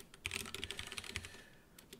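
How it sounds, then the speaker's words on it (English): Rapid, uneven keystrokes on a computer keyboard while coding in C#, close and fairly quiet, with short pauses between bursts and no talking. "If I can type,"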